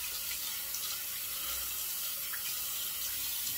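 Hot tap water runs steadily into a sink as a razor is rinsed under it, a continuous close hiss with faint splashes and no talk.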